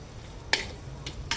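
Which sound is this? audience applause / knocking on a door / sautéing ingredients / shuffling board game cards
sautéing ingredients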